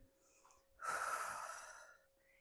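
One deep breath during a morning exercise routine, a soft breathy whoosh lasting just over a second, close and quiet over near silence, trailing into a faint tone at the end.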